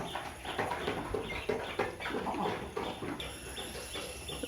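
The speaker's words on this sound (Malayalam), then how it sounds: "ഇതാണ് കോഴികൾ" Several chickens on a poultry farm cluck and murmur close by in overlapping bursts, a busy flock chatter against faint background hum.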